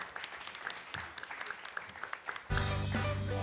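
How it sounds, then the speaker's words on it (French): Audience applause, scattered clapping at first, then swelling suddenly into loud, dense applause from a crowd. "On peut applaudir Jean."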